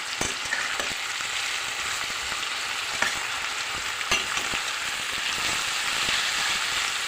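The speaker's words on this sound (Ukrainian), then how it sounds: "Доводимо цибульку до такого золотистого кольору" Large onion rings frying in a pan, turning golden, with a dense, even sizzle and occasional stirring clicks, close up and continuous, no voices.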